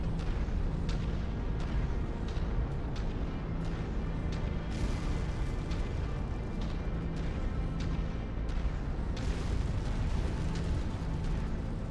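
Giant mechs trade weapon fire in MechWarrior 5 on a hostile planet, a steady barrage of booming blasts and sharp bursts repeating throughout over a dense rumbling bed, loud and close with no talk.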